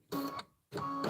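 An embroidery machine stitches in two steady whirring bursts separated by a short pause, close and fairly loud, with no talk.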